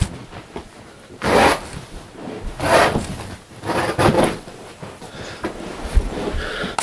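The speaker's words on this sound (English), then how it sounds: "And then just cut this stuff. Get a nice sharp razor." A sharp razor knife slices through old carpet during removal, giving rough, raspy tearing strokes that come in several close, uneven pulls, loud and near, with no talk.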